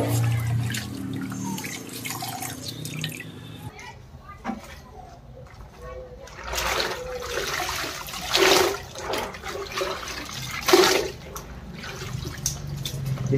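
Water wrung by hand from starched white laundry, dripping and splashing in bursts over a background of household noise, with speech present.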